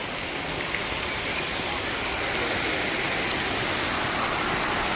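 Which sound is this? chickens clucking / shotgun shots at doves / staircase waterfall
staircase waterfall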